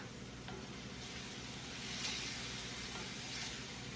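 Stuffed portobello mushroom filling cooks in a pan, giving a steady, close sizzle and hiss with light scraping from a spoon stirring through it, with no talking.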